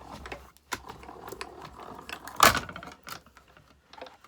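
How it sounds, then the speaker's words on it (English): A die-cutting machine feeds a Christmas card and its top cutting plate through the rollers, making a run of clicking, grinding mechanical rasps. One louder crunch lands midway, with no talk over it. "Pop on my top cutting plate, run it through."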